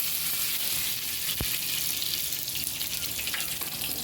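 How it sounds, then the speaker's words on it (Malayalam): Curry leaves sizzle in hot coconut oil before fish is fried, a loud, continuous, close crackling hiss with one brief sharp tick partway through. "അതിൻ്റെ മുകളിലോട്ട് കുറച്ച് കറിവേപ്പില ഇട്ട് കൊടുക്കാം."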